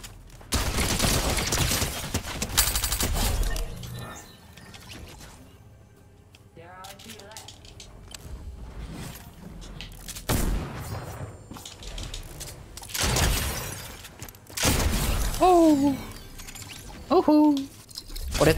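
Bursts of rapid gunfire in Fortnite Zero Build crackle at several points, with distinct short volleys near the start and middle, mixed with game effects and someone talking.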